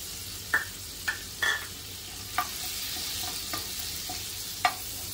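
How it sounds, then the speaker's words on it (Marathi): Cumin seeds fry in melted butter in a pan, giving a steady close sizzle broken by several sharp scraping stirs. "तर बटरवरती जिरं घालायचं आहे।"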